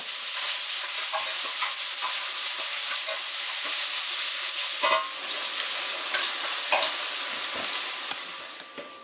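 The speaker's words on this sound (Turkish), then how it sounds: "Şimdi zeytinyağında soğanları öldüreceğim önce" Onions sauté in olive oil in a large oven dish, a dense continuous sizzle with scattered utensil scrapes and taps, the frying fading slightly near the end, with no voices.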